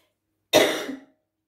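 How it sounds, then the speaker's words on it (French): A single short, harsh cough, close and loud, bursts out of silence and fades within half a second. "je tousse un peu."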